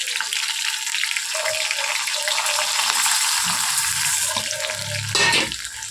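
Soaked, towel-dried lentils going into hot oil with a curry leaf tempering: a loud, continuous close sizzle and crackle, with a stirring scrape toward the end and no talking.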